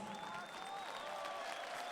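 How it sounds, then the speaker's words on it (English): An arena crowd at a LAN finals esports event for Counter-Strike, Natus Vincere vs EnVyUS, claps in steady, dense applause that fills the space at moderate level, with faint voices mixed in. "Please, applause."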